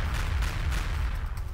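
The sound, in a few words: pistol gunfire and explosions in the video game Feral Fury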